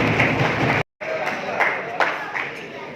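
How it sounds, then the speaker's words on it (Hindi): Loud applause welcomes a young speaker at a community foundation gathering, dense clapping from the audience that cuts out briefly and then resumes steadily. "जोरदार तालियों से इस्तकबाल करें"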